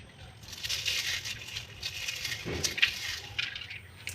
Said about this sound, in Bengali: আওয়াজ শুনে বুঝতে পারছেন কতটা মুচমুচে হয়েছে